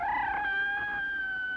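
A cat sound effect played from a phonograph record: a single drawn-out, wavering meow-like wail, faint and thin with a tonal, slightly mechanical quality, heard alone.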